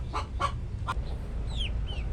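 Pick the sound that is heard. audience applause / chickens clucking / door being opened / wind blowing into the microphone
chickens clucking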